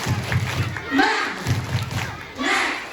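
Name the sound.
audience doing a rhythmic spirit clap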